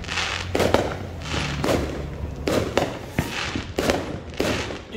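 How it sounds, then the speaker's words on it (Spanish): Fourth of July firecrackers and fireworks burst in quick succession, roughly a half-dozen loud, sharp booms with thudding echoes, fairly close by. "esos cohetes son carísimos"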